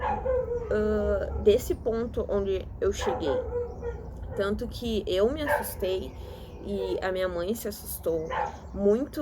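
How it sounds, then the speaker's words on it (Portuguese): A dog barks and whimpers repeatedly near someone speaking Portuguese, its yips and howl-like cries rising over and between her steady talk. "Tem um cachorro latindo."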